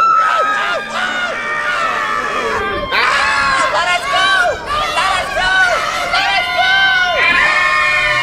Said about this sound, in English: They just wouldn't stop screaming!